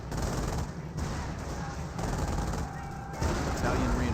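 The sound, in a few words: rifle gunfire in Company of Heroes video game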